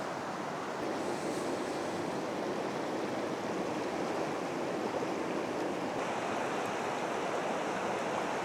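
River flowing along the Waiotauru Track, a steady broadband rush of water heard close and continuous, with no voices.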